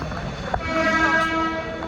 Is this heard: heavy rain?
no